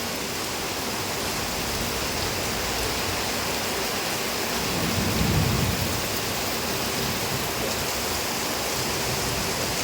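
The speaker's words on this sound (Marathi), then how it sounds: "धडाधड पाऊस पडतोय" Heavy monsoon rain pours down in Maharashtra during a lightning storm, a dense, unbroken hiss that holds steady throughout, with a brief low swell near the middle and no voices.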